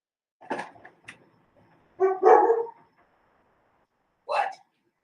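Several short dog barks and yips from puppies, a burst near the start, a louder cluster in the middle and one more bark at the end, fairly close with quiet gaps between.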